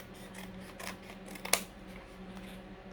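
Scissors cut paper strips for paper beads, with a few faint soft snips and then one sharp, close crisp cut partway through, in an otherwise quiet room.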